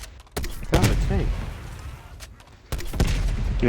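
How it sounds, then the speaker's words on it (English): Two heavy booming tank explosions in Call of Duty: Black Ops Cold War Zombies, about two and a half seconds apart, each followed by a rumbling tail, with faint talk between them. "I hear the explosions from the tank."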